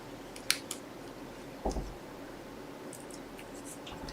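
Scissors cutting card for a pop-out slider greeting card, a few brief close snips and clicks spaced apart over quiet background.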